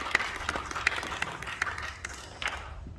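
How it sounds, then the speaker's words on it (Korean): An audience at a church education policy symposium applauds to welcome a professor to the podium, a fairly faint, thin patter of clapping with a few sharper claps standing out. "박수로 모시겠습니다"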